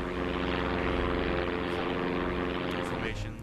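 Steady, loud drone of a propeller fighter plane's engine in the video game Damage Inc, a continuous roar holding level for a few seconds before easing slightly at the end.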